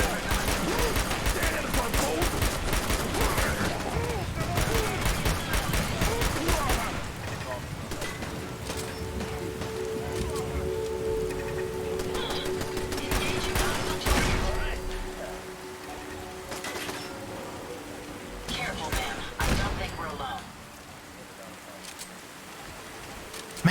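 Rapid, loud bursts of .44 Magnum pistol fire in Fallout 4: Far Harbor, crackling densely at first and then thinning to scattered shots over a low ambient hum.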